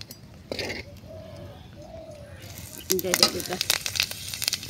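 Dried chili and panch phoron spices frying in hot oil in a pan, a crackling sizzle that grows louder and busier toward the end, with faint clinks and someone talking over it.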